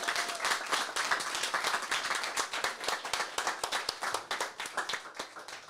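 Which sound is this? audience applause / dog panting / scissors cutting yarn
audience applause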